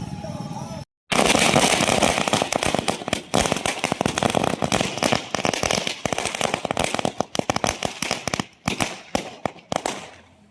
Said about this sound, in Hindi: छत्रपति शिवाजी चौक में आतिशबाजी कर जश्न मनाया गया।